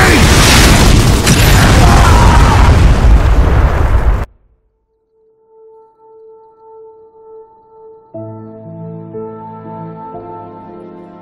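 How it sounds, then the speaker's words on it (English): Artillery shells in the Gears of War 3 game burst in a loud, sustained rumbling barrage of booms that cuts off abruptly. Quiet tonal game sounds and a swelling musical chord follow. "Whoa, artillery incoming!"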